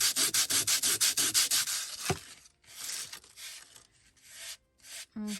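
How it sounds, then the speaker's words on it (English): Sandpaper rubs back and forth over junk mail paper in quick, rhythmic close strokes, about a dozen even passes, then slower irregular scrapes with brief gaps. "So sanding that."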